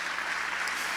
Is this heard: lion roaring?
no